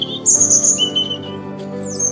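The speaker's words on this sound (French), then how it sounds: "Le rouge-gorge va se mettre à chanter." A robin sings nearby, clear bright chirps and trilled phrases rising over a low steady background tone, loud and close, with no one talking.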